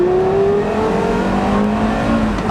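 A Porsche Carrera GT V10 revs hard under acceleration, loud and close, its rising engine note climbing steadily without speech.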